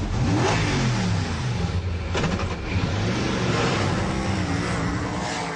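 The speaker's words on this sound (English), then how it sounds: "The engine, though, is very quiet in this, until you turn it on." The 5-litre BMW V8 of an Ascari A10 supercar starts and roars steadily, rising in pitch as it revs hard, a deep, powerful rumble close by with no talking.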